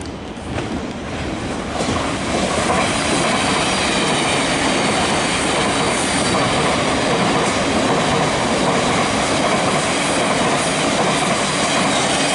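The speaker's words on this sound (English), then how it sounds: "We're here at Norwood Junction waiting for our train to London Bridge." A train rolls into Norwood Junction station in London, loud and close, with a continuous rumble and clatter of wheels on track that builds after the first couple of seconds and holds steady.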